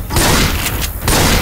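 Continuous loud gunfire from Left 4 Dead 2, dense overlapping shots with brief dips in a near, steady barrage, no voices.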